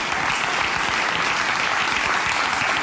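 Audience applause, a steady wash of many hands clapping throughout, fairly close and uniform.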